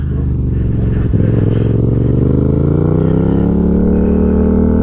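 Yamaha MT-07 motorcycle engine fitted with a new aftermarket exhaust, running steadily and close by with a deep, throaty tone that rises in pitch as it revs up, with no talk over it.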